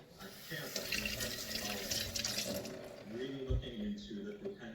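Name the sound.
tap water running while washing lemons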